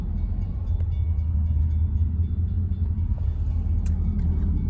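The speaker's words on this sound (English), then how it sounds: "I am now stuck behind a stop train" A stopped freight train rumbles heavily at a crossing in a small town, heard from inside a waiting car as a steady low roar with faint clanks and squeaks above it.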